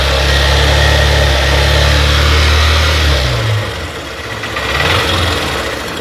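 A Honda CB Shine 125 BS4 motorcycle engine, worn and leaking oil and unable to hold its rpm, idles loud and close, then its low drone dips and wavers unevenly before picking up again.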